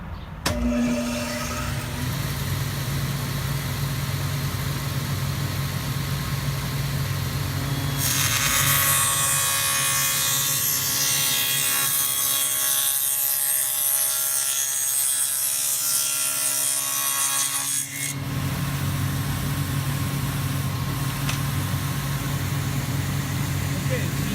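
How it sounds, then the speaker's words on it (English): A table saw fitted with a dado blade cuts a groove in wood. A steady motor hum swells into a loud, rough cutting whir for several seconds, then drops back to the running hum. "I have my fence set up here, and this is my dado blade"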